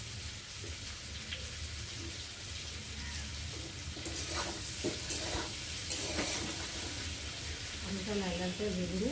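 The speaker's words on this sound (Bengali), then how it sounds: "আলুটা লাল লাল করে ভেজে নিই।" Potato pieces frying in oil give a low, continuous sizzle and crackle, with occasional stirring sounds, while a voice talks over it near the end.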